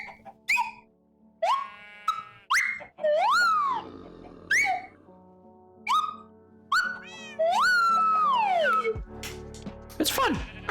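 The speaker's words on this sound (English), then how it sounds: "It's not a great slide whistle, so it got some, like, you can hear it in the higher range. It cracks." A cheap slide whistle plays a string of quick swooping notes and longer gliding pitches, the higher notes cracking and breaking, with short pauses between phrases.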